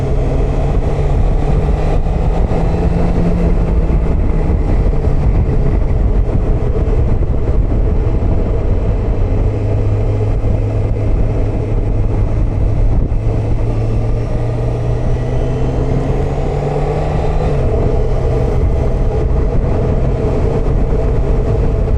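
A Honda CBF1000 motorcycle on the move, heard from the rider's position as a loud, continuous engine drone with rushing wind and slowly shifting pitch throughout.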